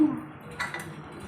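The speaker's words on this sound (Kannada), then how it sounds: "ಈಗ ಕುಕ್ಕರ್ನ ಪ್ಲೇಟ್ ತೆಗಿತಾ ಇದ್ದೀನಿ." A quick metallic clatter of a pressure cooker lid being removed, a couple of light clinks close by in an otherwise quiet kitchen.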